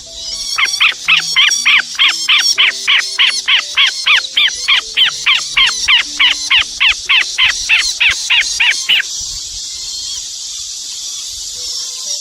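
Rescued geese give a long run of loud, rapid, evenly spaced honking calls close by. The calls stop abruptly near the end, leaving a steady background hiss.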